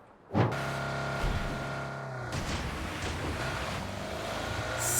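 A steady car engine drone in PUBG with a constant low hum and tonal whine, sustained throughout with slight rises in intensity, like a car idling or cruising.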